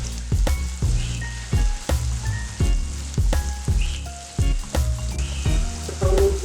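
Onion and garlic paste frying in a pan, a loud close steady sizzle punctuated by regular knocking stirs, with no talk.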